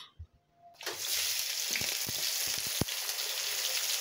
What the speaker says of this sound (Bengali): সরষের তেল দিয়ে পেঁয়াজ কোচানোগুলো দিয়ে দিলাম